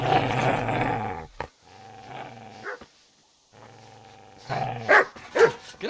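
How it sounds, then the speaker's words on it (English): In Kingdom Come Deliverance, a dog growls low and steadily, then snarls and barks sharply several times, close and loud. "Get away, you mutt!"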